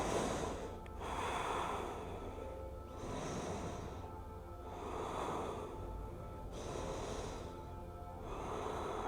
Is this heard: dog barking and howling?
no